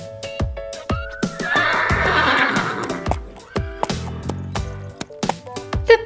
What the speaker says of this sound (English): The Black Forest Stallion.